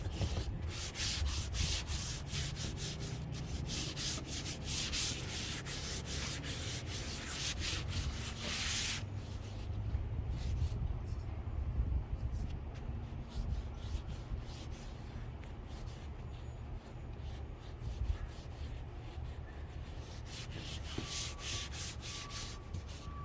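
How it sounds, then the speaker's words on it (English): Sandpaper rubbing across an oak cabinet being converted to a paint finish, a steady, close scratchy sanding with fast back-and-forth strokes that runs for the whole stretch with no talking. "I'm gonna sand it up"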